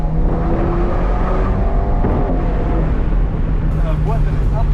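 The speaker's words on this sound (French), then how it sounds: "Petit tour les amis dans l'Alpine de Shiftech" Inside a Shiftech-tuned Alpine sports car on the move, the engine drones steadily and loudly with a rising rev near the end, while people talk over it.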